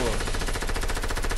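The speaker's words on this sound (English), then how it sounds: "He shot at me." Rapid video-game machine-gun fire crackles in an even, fast stream of shots, loud and close, with no pause across the short burst.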